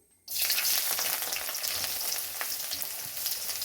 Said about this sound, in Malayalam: എന്നിട്ട് ഇഞ്ചി വറുത്തെടുക്കാമേ